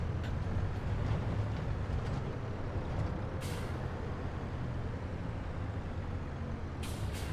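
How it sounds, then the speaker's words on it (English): A truck's air brakes in Farming Simulator 22 release a hissing rush over a steady engine rumble, with two brief sharper hiss bursts near the start and end. No talking. "I slam the brakes on."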